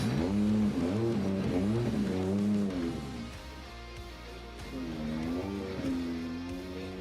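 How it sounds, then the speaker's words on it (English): Drift car 870, driven by Akihiro Hanawa for DGR Racing, warms up in the burnout box at Ebisu Circuit's West Course in Fukushima. Its engine revs loudly and repeatedly, the pitch rising and falling in waves, close and with no voices. "ihiro Hanawa, with DGR Racing and Good Ride, warming up in the burnout box"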